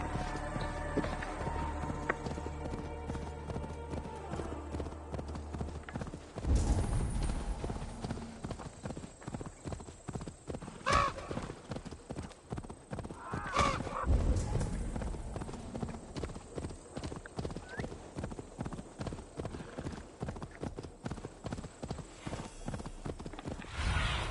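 Fast, rhythmic hoofbeats of a galloping horse in the video game Assassin's Creed Valhalla, loud and continuous over a steady musical background.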